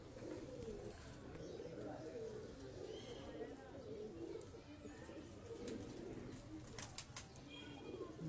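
Pigeons cooing softly in a loft at a pigeon keeper's place, low steady coos under a constant background hum, with some wing flapping and faint chirps near the end; someone talks at times.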